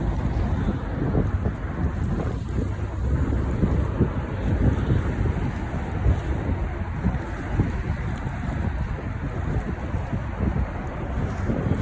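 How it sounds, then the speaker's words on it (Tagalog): Steady wind buffeting an outdoor microphone, a constant rough low rumble with a broadband rush lasting throughout and no talking. "Mahangin ngayon."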